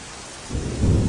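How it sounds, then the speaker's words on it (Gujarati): Heavy, continuous rain during flooding in Navsari district comes down as a dense roar that swells louder and deeper partway through. "સતત વરસાદ વરસી રહ્યો છે"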